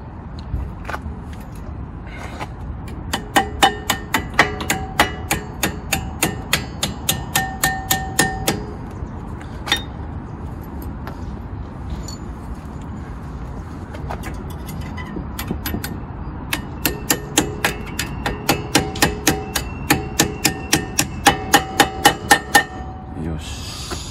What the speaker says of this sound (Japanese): 完全に入ると叩いてる音が変わるんで